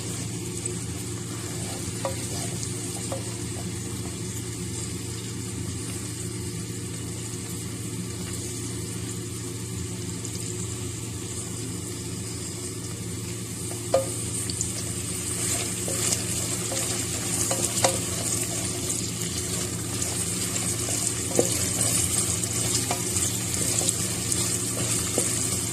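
Onions and garlic fry in oil inside a pressure cooker, giving a steady, close sizzle that runs throughout with occasional stirring clinks and scrapes, and no talking.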